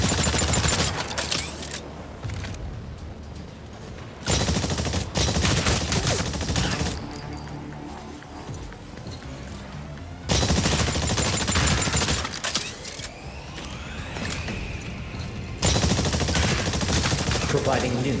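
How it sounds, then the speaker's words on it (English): Rifle grenade fire and explosions from the video game Exoprimal, with loud bursts of gunfire and blasts in repeated dense volleys, broken by quieter stretches of game ambience. "Activate rifle grenade to eliminate the raptors."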